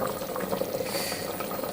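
Water bubbles and churns at a steady rolling boil in a pot for chicken biryani, a dense continuous burble heard close up with no talk.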